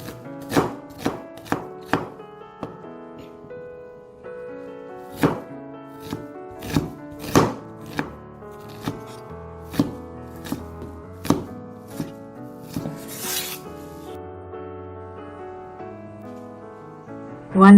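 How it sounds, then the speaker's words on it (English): A knife chopping two medium onions on a cutting board for curried mutton bones, sharp close thunks in uneven bursts with short pauses between runs of cuts, clear and alone over a quiet kitchen hum. "I have 2 medium-sized onions that I'm going to chop up."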